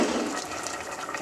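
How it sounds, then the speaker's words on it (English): Hot water poured into a curry pan over chicken pieces, a brief steady splashing gush, close and loud. "So I'm going to add to this water. I've got hot water here."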